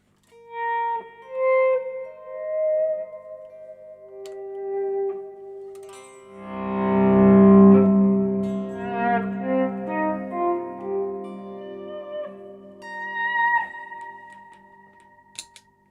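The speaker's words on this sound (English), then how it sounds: "That's no delay, that's just the reverb." Electric guitar notes played through a reverb effect pedal, sparse plucked tones followed by a louder strummed chord whose sustained wash of reverb decays slowly across the passage, with no talking.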